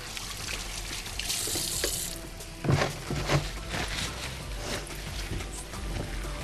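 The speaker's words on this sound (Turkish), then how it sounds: "şöyle hemen bir elimi yıkayayım efendim hamuruma şekil vermeden" Tap water runs steadily into a sink as someone rinses their hands before shaping bread dough in a home kitchen, a continuous hiss with a couple of brief splashy bumps midway.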